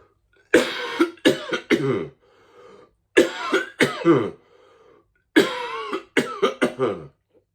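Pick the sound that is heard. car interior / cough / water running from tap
cough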